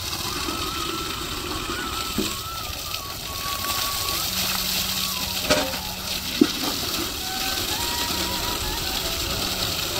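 A new submersible pump at a rural village home pours very cold water during a bath, a steady rushing gush with an underlying motor hum running continuously throughout.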